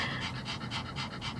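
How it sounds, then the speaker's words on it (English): A dog pants rapidly and steadily at close range, a quick rhythmic huff of breaths repeating without pause and with no talk over it. "the mass amount of panting that is happening here"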